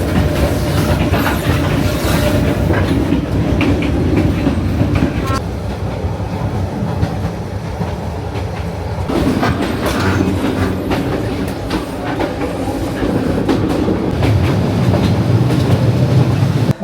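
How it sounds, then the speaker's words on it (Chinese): Overnight train bound for Lao Cai, Vietnam, rattling and swaying with loud continuous clickety-clack of wheels on rails and metallic car rumble, heard from inside the carriage throughout. "这个火车特别晃"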